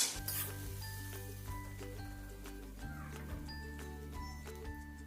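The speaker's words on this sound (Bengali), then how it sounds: "রসুন বাটাটা দিয়ে আবার খানিকক্ষণ ভাজবো" Garlic paste frying in a pan, with a steady sizzle and occasional soft clinks of a utensil against the pan, close and continuous with no talk.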